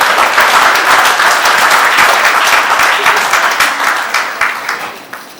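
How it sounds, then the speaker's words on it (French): A gala evening crowd applauds loudly at first, a dense wash of many hands that gradually thins toward scattered individual claps as it dies away, with no talk over it. "Est-ce qu'on ne peut pas l'applaudir encore?"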